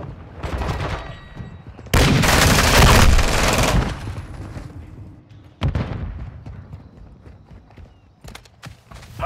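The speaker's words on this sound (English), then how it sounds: "Taking effective fire!" Gunfire in Call of Duty: Modern Warfare II, with loud bursts of automatic fire and a dense, roaring stretch of shooting in the middle, then scattered sharper shots and clatter trailing off.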